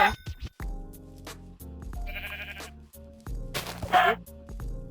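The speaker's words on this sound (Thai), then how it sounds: "เจอแกะสีอื่นไม่เจอแกะสีขาวเลย" Sheep bleating in Minecraft 1.20.1 with mods, a few short blocky bleats mixed with game effects and background music, fairly close and moderately loud.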